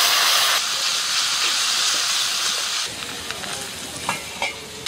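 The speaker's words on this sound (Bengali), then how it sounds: "অল্প একটু জল দিয়ে মশলাটা কষিয়ে নেব।" A spice paste of cumin, coriander, turmeric and chili powder fries in a pan with a splash of water, hissing and sizzling loudly and steadily, then settling into a softer sizzle broken by faint stirring scrapes.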